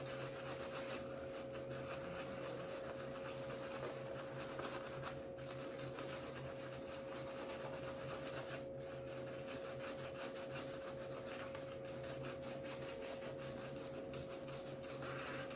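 A restored vintage Boker straight razor scraping across skin during a shave, making a faint, steady rubbing rasp with no talking.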